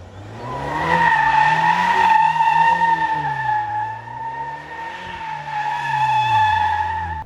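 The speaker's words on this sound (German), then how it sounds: "mache ich es jetzt gleich nochmal in einem kleinen Donut auf dem trockenen Asphalt" A VW Golf 8 R does a donut on dry asphalt, its tires squealing loudly and steadily in wavering tones for several seconds over the engine's low drone.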